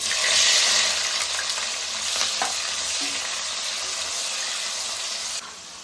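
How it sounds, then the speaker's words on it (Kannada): Chopped onions, six of them, dropped into hot oil and frying with a loud, steady sizzle and occasional stirring scrapes, close and continuous throughout for a tasty spicy pasta. "ಎಣ್ಣೆ ಬಿಸಿಯಾಗಿದೆ. ಈಗ ನಾನು ಒಂದು 6 ಈರುಳ್ಳಿ ತಗೊಂಡು ಸಣ್ಣದಾಗಿ ಉದ್ದು ಕಚ್ಚಿಟ್ಕೊಂಡು ಈರುಳ್ಳಿ ಹಾಕ್ತಾಯಿದ್ದೀನಿ."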